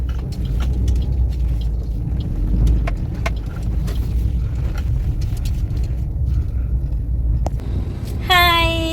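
Steady low rumble of a car engine idling nearby while parking, with scattered clicks and knocks, ending in a brief rising tonal whine.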